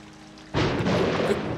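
Thunder in the horror video game Outlast: after a quiet moment, a sudden loud rolling rumble breaks in and sustains with a heavy, rain-like wash, no speech.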